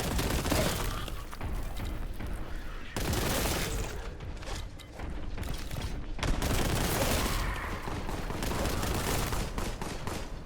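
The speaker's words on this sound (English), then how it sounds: "I can hear somebody shooting." Dense bursts of gunfire and rapid shooting from a Warhammer 40K Imperium of Man setting, continuous loud volleys with sudden shifts in intensity and no pauses.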